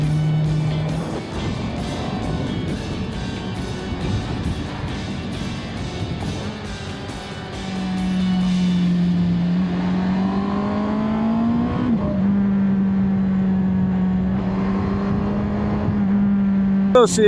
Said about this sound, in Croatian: Pazi auto.